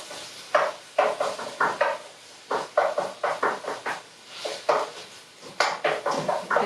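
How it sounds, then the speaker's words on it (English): A knife strikes a cutting board in quick rhythmic bursts while ingredients are chopped for an African dish in a home kitchen, close and crisp with brief pauses between runs of strokes and no talking. "Let's chop that."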